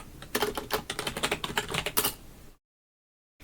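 Rapid, close keystrokes clatter on a computer keyboard as a command is entered, a dense burst of clicks that stops abruptly into silence.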